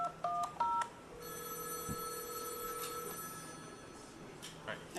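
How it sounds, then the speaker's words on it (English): Short telephone DTMF dialing tones beep in quick succession at the start, followed by a steady ringback-like tone and a sustained phone signal, faint and slightly hissy, during a talk on law enforcement wiretaps. "You'll see the digits being dialed as."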